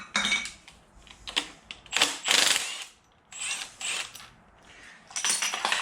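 A bolt is backed off the timing gear of a Datsun 521 mini truck's L16 engine: irregular metallic ratchet clicks and tool clatter in bursts, close and moderately loud, with short pauses between.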